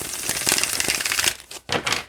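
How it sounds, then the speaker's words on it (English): A deck of playing cards given a bridge shuffle, heard as a close, crisp riffle that breaks off into a couple of short flutters and snaps as the cards fall together. "when I do the bridge shuffle like this, I do it about 3 times"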